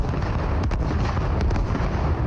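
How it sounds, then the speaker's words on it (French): Grenade explosions in a video game form a dense, loud, continuous rumble of blasts with a few sharper pops breaking through, with no talking. "Là, tu peux tirer les grenades."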